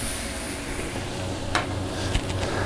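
Steaks sizzle steadily on hot grill grates, a close, constant hiss with a couple of brief louder crackles.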